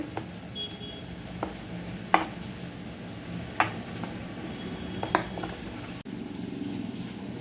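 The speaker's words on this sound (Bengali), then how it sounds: "এবার এই ডাল বাটার মধ্যে মেশাবো একটা ডিম দিয়ে দিলাম একটা ডিম আর দিয়েছি একটু নুন আর হলুদ এবারে ভালোভাবে মিশিয়ে নেব" Lentil paste batter being mixed with an egg, salt and turmeric in a kitchen: soft, steady stirring with a few sharp clicks of a utensil against the bowl, close and fairly quiet.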